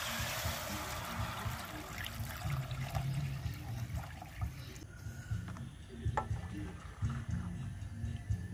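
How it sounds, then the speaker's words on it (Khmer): Water pours into a pot of seasoned broth for duck egg soup, a continuous trickling and splashing stream heard close by with a low background rumble and a few small clinks. "ហើយយើងចាប់ផ្ដើមដាក់ទឹក"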